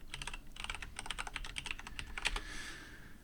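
Password being typed on a computer keyboard while logging into an Ubuntu Server virtual machine: a quick, steady run of close, crisp key clicks with a brief pause midway, heard alone.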